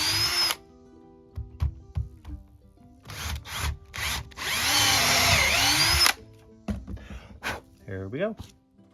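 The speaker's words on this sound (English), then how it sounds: "I'm drilling these through" Power drill driving screws into wood while building a chicken coop, running in several short whirring bursts with one longer run, close by, with a person talking in the gaps.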